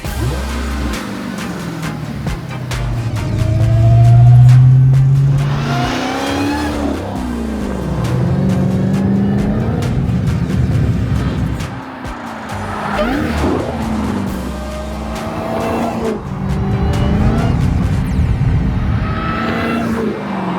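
A rebuilt, previously crashed Dodge Hellcat SRT's engine revs and roars through the whole stretch on a road test, with tires squealing and skidding at several points, loud and close.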